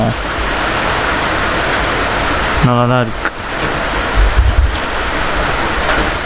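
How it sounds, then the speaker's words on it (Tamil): Light, steady rain falls as a continuous broad hiss throughout. A person speaks briefly over it, and a short burst of a tonal sound cuts in midway. "திடீர்னு மழை வந்துச்சு. ஒரு மணி நேரமாக தொடர்ந்து தான் பெய்யுது."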